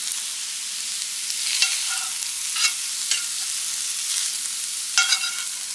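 Eggs and sausage frying together in a pan for breakfast tacos, a soft continuous sizzle broken by a few brief scraping stirs, close and without talk.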